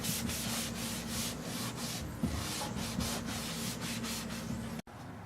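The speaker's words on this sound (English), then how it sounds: "So I finished all the sanding now." Sandpaper rubs back and forth across a wooden chopping board in a quiet, regular run of strokes that ends in a brief pause.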